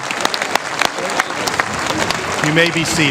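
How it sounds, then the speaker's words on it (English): Audience applause at a school graduation ceremony, a steady dense clapping that fills the space, with a voice speaking over it toward the end. "Let's give them a big round of applause."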